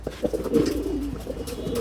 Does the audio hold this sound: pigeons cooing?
yes